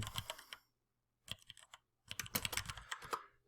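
Rapid clicks of someone typing on a computer keyboard, close by, in three short bursts separated by brief pauses.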